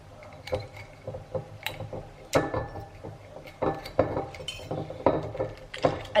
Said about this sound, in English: So I'm gonna try and open this with a knife.